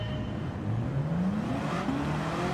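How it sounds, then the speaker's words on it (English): A TVR fitted with an LT5 V8 accelerates hard off the start line in Gran Turismo 7, its engine note climbing steadily in pitch, then dropping and climbing again after a shift, loud and close with no talk. "I'm just going to shift up into second and then mash the accelerator when the lights go out"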